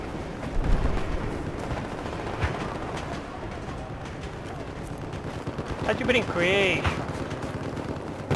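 Rapid gunfire from a sniper match in the video game Battlefield 4, with bursts of shots and impacts running under excited talk throughout, and a louder cluster of blasts near the end.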